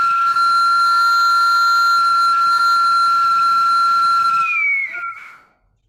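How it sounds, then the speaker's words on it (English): Three clay whistles sound together in a steady, loud sustained chord of pure piercing tones for about four seconds, then cut off as one pitch bends briefly and fades away. "Now we have 3 whistles together."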